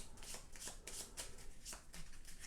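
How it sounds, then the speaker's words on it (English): Game cards are riffled and shuffled by hand during a solo tabletop session, a run of crisp papery bursts repeating at a steady rhythm, close and fairly quiet with no talk. "Shuffle these cards up,"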